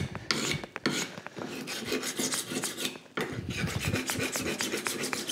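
A file rasps along the hardened steel edge of an old hand saw blade clamped in a vise, turning it into a card scraper. Loud, close, rhythmic strokes repeat in two long runs separated by a brief pause, with no talking.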